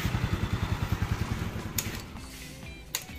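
An old Keeway 125 motorcycle engine running close by, with a steady rapid pulsing putter at first that settles into a smoother idle with a few light clatters.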